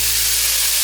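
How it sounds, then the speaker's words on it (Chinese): Minced ginger stir-fries in hot oil reused from frying tofu, a loud, dense, continuous sizzle heard up close. "油热了之后，把姜末放进来炒香"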